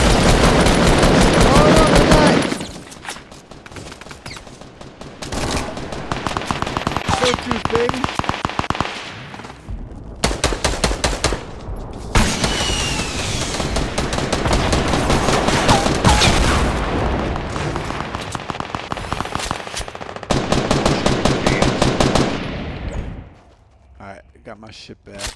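Rapid bursts of automatic gunfire from a gun in Fortnite's 50 vs 50 mode, loud and close, in dense volleys separated by brief pauses, with players talking over the shooting.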